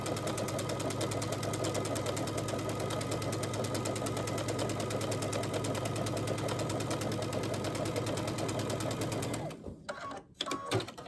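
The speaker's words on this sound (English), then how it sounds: "So I'm taking it over to the sewing machine. I'm going to stitch my 1/4 inch." A sewing machine runs a steady, close, continuous stitch along a quarter-inch seam on a disappearing hourglass quilt block for about nine seconds, then stops, leaving a few soft handling sounds.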